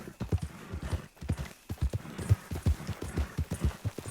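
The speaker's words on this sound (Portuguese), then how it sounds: "esse cavalo cansa muito rápido" A horse gallops in the video game Red Dead Redemption 2, with rhythmic hoofbeats thudding in quick repeated clusters, fairly close and steady, with a brief pause partway through.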